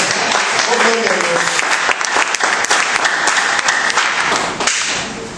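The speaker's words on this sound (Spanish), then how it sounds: "¿Cuánto le dan un aplauso al Señor?" A church congregation at a preaching conference breaks into loud, vigorous applause. Crisp, dense clapping rolls on steadily before tapering off at the end.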